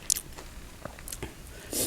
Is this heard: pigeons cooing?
no